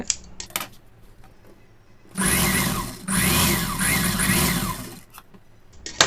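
A sewing machine stitches the lining of a pa-neck blouse, running in two loud, close bursts: a short run of about a second, a brief pause, then a longer steady run of nearly two seconds before stopping.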